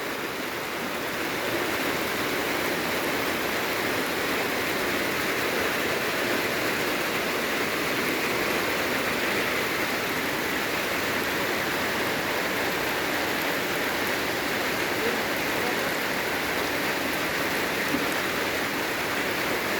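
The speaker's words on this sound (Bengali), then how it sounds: "আমাদের এখানে খুব জোরে বৃষ্টি হচ্ছে" Heavy rain pours steadily, a dense, unbroken hiss that stays loud and even throughout, with no voices.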